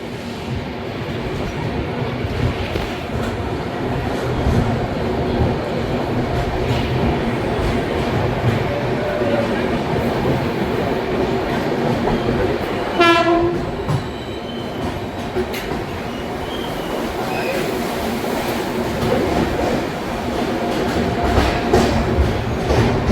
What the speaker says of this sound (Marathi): स्टेशनला एंटर करते ट्रेन.